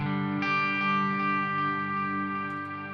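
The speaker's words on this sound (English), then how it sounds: "Then it kicks in the secondary delay." A sustained electric guitar chord played through a Headrush pedalboard with a secondary delay engaged, a fresh strum near the start blooming into a thick, ringing wash that holds steady and loud.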